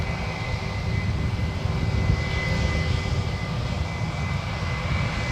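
An American Airlines jet taxiing at San Francisco International Airport, its engines producing a steady, loud broadband roar with a faint whine, constant and unbroken from start to finish.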